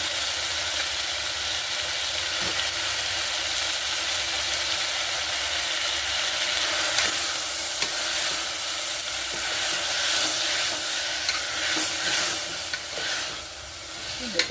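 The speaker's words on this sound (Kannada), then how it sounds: "ಹಾಕಿಗೆ ಚೆನ್ನಾಗಿ ಇದನ್ನು ತಿರುಗಬೇಕಾಗುತ್ತೆ." Tomatoes and beans fry in a pan for tomato bath, giving a steady, even sizzle with occasional soft scrapes of stirring, close and continuous without speech.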